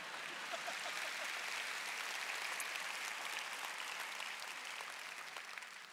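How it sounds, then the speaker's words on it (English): Steady, sustained applause from a church audience for Pastor Jared during a Summer at Willow service, a dense wash of clapping that holds evenly throughout and only slightly thins toward the end. "let's give Pastor Jared a big round of applause"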